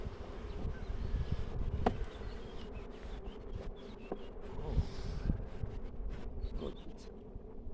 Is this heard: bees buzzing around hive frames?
yes